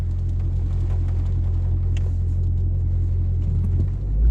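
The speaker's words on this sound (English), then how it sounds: "You guys can just hear that violent shake" A Shelby GT350 rumbles with a deep, heavy, continuous low drone, loud and steady from inside the car, ending with a slight surge.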